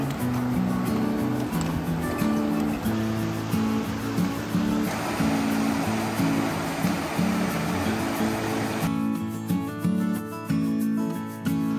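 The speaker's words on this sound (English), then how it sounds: "I can hear the next waterfall." River water rushes and crashes steadily near a waterfall in Bend, Oregon, a dense continuous roar with a shift in texture partway through, loud and close with no talking.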